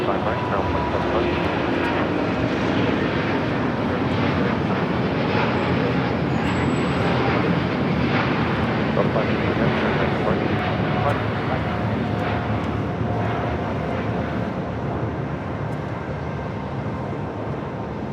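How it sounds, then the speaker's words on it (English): An American Airlines Boeing 737 MAX 8 arriving from Phoenix at LAX produces a steady, broad jet roar that holds loud and even throughout, with a voice talking over it. "American Airlines flight 1668 coming in from the Valley of the Sun at Phoenix, Arizona, 737 MAX 8 crossing over 25 right"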